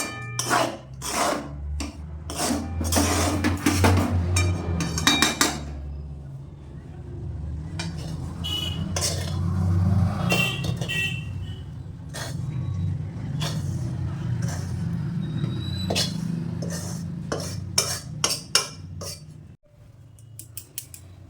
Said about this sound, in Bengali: গরম গরম অবস্থায় চন্দনপুলি বা টুসি পিঠের ডোটা এইভাবে মেখে নিতে হবে যতক্ষণ না মসৃণ হচ্ছে